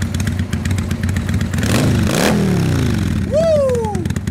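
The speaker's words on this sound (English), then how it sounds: "Give it a little rev for you guys." A 2005 Kawasaki Vulcan 800 motorcycle engine idles with a steady low rumble, then gets a sharp rev that swells and drops back, and a short whoop-like tone rises near the end.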